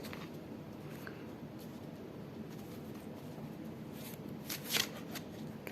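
Tarot cards being handled and shuffled, a soft continuous riffle and slide of card stock close by, quiet, with a brief sharper flurry near the end and no talking.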